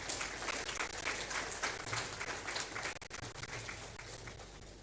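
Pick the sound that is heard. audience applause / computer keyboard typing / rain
audience applause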